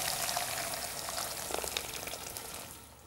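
About a litre of hot water stock poured into a soup pot, a soft gushing splash that swells briefly in the middle and then tapers off, quiet and without talk.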